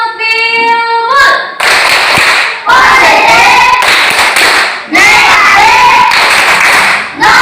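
Classroom of students performing the rhythmic bilbul clapping game, loud bursts of group hand claps alternating with chanted words, voices talking between the clapping phrases.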